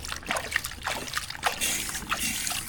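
Water gushing under strong pressure into a concreted livestock drinking bowl, splashing and trickling in uneven bursts, close by with no speech.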